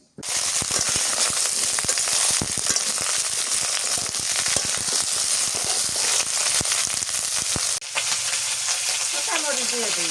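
Pointed gourd (potol) frying in oil in a pan, a loud, continuous crackling sizzle close up with popping bursts throughout; it quietens slightly near the end.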